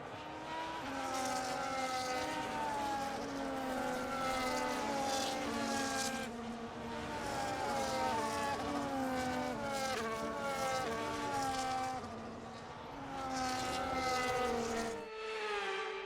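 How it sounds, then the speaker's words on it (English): Several F1 25 race cars in the Canadian Grand Prix game cruise by on the formation lap, their engines layered in steady, rising and falling harmonic whines that hold continuously at moderate loudness, with a brief dip near the end and no talk. "As the cars come back towards the grid to line up for the start of the race"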